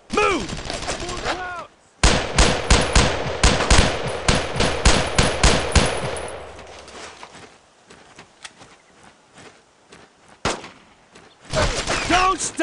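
Machine gun fire in Brothers in Arms Road to Hill 30, loud rapid bursts of automatic shots in tight rhythmic strings, then scattered single and distant shots, with shouted voices between volleys.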